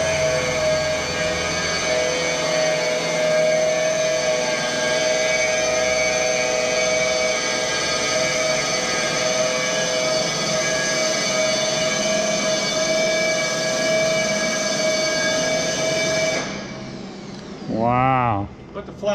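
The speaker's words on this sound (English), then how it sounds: "Steward, put the flaps up." A steady electric whine and hum from the flap motor and twin jack screws of a Douglas A-26 raising its wing flaps, close and continuous, ending abruptly before a brief rising-and-falling tonal sweep.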